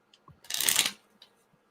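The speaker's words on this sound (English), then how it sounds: "By the way, I'm still shuffling the cards." A brief riffle of shuffling tarot cards, a quick burst of fluttering paper snaps lasting under a second, with faint taps before and after.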